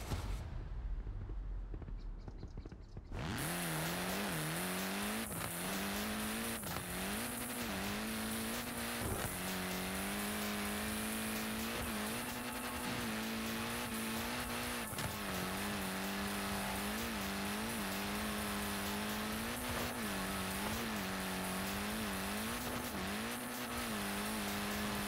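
A Peugeot hot hatch driven in Forza Horizon 4, its engine droning loud and steady after a quiet start, pitch rising and dipping through gear changes and throttle lifts with occasional tire noise, no voices.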